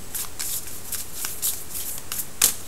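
Tao Oracle cards being shuffled by hand before a single card is drawn, a steady run of soft papery riffles and slaps close up with no talking.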